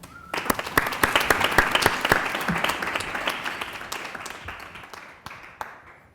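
Audience applause welcoming speaker Anne-Sophie Springer at a talk, a dense burst of many clapping hands that swells quickly, holds for a few seconds, then thins out and fades near the end.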